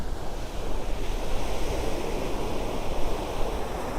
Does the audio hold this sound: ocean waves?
yes